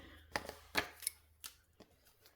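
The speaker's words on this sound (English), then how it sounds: "So I'll get some scissors." Scissors snip through scrapbook paper sheets in a handful of distinct, close, crisp cuts at irregular intervals, with quiet gaps between them and no talking.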